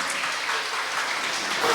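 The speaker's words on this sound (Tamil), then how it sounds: "மரிய சுசை அவர்களை மிக்க அன்போட கைத்தட்டி உற்சாகப்படுத்துங்க" Audience clapping at a Women's Day celebration with a large crowd of women, a steady, dense wash of applause filling the short stretch at even loudness, swelling slightly near the end, with no clear speech over it.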